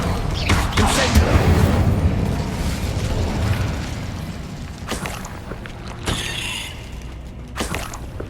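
Incendio fire spell cast in the Hogwarts Legacy video game: a loud, roaring burst of flame that swells over the first few seconds, then fades, followed by a few sharper bursts and pops among other game sounds.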